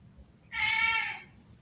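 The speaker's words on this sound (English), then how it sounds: "And that's our cat Hugh, who says hello." A single drawn-out cat meow, clear and close, rising and falling over about half a second in an otherwise quiet room.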